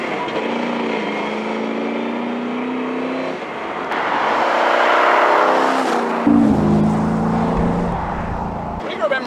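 A Superformance Shelby Daytona Coupe with a 6.7-litre Roush engine drives along the road, its loud, steady engine drone rising and shifting in pitch as it accelerates, heard close from inside the car.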